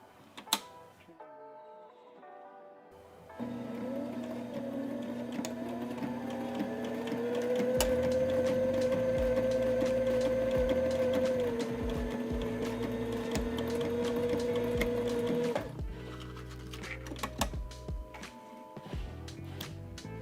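A sewing machine stitching canvas panels along a half-inch seam, running in a steady fast whirring hum with a mechanical pitch that rises and holds, then stops into a few clicks of handling.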